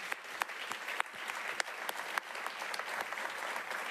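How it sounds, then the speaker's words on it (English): A crowd applauding steadily, dense clapping with a few sharper individual claps standing out, moderately distant. "I want everybody to join me in a round of applause for Lisa"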